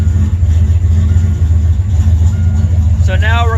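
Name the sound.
turbo 351W Foxbody Mustang engine on test drive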